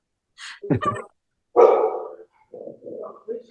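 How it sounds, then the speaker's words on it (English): Dogs barking in a room, a few separate loud barks and yips in quick succession, close by, followed by softer grumbling vocal noises. "he's taming the dogs"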